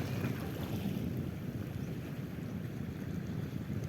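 Strong wind roars steadily across the microphone at a fishing spot, a dense low rumble with a faint wash of water beneath, no voices.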